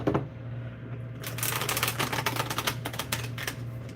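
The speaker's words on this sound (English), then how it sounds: "you're just gonna have to trust me that I'm shuffling them" Tarot cards are shuffled by hand, a quick run of crisp riffling clicks and flutters, close and distinct, starting after a short pause.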